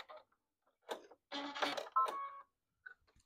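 A sewing machine backstitches the seam of a half apron in short stop-start bursts of whirring stitching, close and fairly loud, separated by brief silences.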